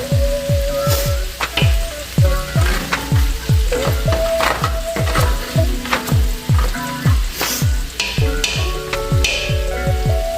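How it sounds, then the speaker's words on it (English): Browned bits scraped and stirred in a pan for neckbone and oxtail stew, a loud steady sizzle broken by repeated scraping strokes of a utensil against the pan bottom throughout, with no talking. "let me scrape some more out of this pan because all this flavor is in this pan."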